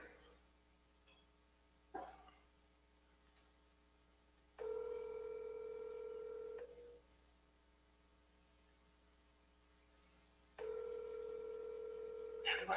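A telephone is dialed to call someone, with faint handset noise, a click, then long steady ringback tones separated by pauses, heard close and alone.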